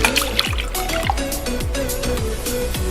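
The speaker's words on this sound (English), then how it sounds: "go ahead and pour yourself a cup of milk to put into your eggs" Milk pours from a cup into a bowl of eggs for honey BBQ wings, a close, steady trickle broken by a regular run of soft glugs and splashes.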